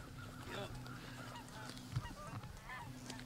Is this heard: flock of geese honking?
yes